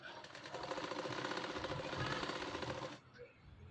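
A sewing machine stitches a blouse sleeve in one fast, steady mechanical whir of rapid needle strokes, running close and continuous for about three seconds before stopping abruptly.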